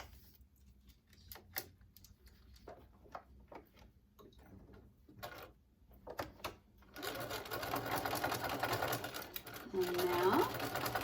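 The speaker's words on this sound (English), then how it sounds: "when I sew in my sleeve, I can then tack that down" Sewing machine stitching a lace sleeve onto a bridal gown, first in short separate bursts and pauses, then running steadily and louder in the second half, with quiet talking in places.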